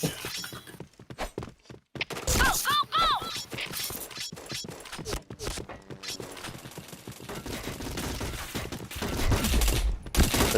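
Rapid bursts of gunfire and sharp impact cracks ring out in a shooter video game, loud and dense, with brief spoken chatter mixed in.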